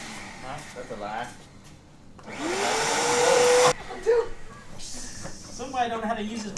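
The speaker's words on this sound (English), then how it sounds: "That's a vacuum." A vacuum cleaner bursts into a loud, whooshing roar for about a second, then cuts off, with people talking close by before and after.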